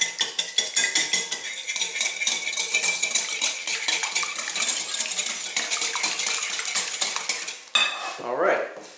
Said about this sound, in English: Grab a wire whisk and beat the eggs to smithereens